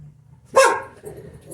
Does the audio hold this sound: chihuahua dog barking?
yes